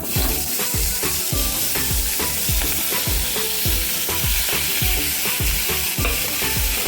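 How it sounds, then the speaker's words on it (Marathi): Green tomatoes for a green tomato and chili chutney sizzle loudly in a hot pan, with a dense, constant frying hiss and regular scraping stirs of a spatula close by. "टोमॅटो घालून घेऊयात"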